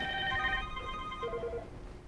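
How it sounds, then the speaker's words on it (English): A Mitel soft phone rings in an office setting, a steady electronic ringtone of layered tones, then a short repeated chirping pattern, with faint background noise and no talk. "I'm getting a soft phone on my pads going off."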